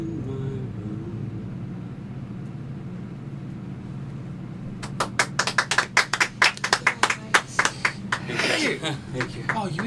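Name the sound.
hand clapping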